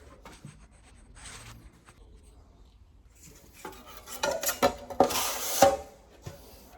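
A metal knife scrapes and clicks against a pan or wall surface while five-minute joint compound mud is spread as a second coat over a wall repair, faint at first and then louder rasping strokes.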